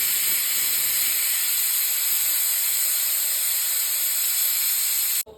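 Steam rushes from a pressure cooker's second whistle during tomato bath cooking, a loud, sustained, piercing hiss that holds evenly for about five seconds before cutting off abruptly.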